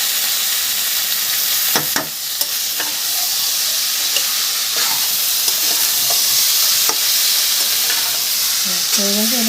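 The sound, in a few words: mankochu (taro root) frying in oil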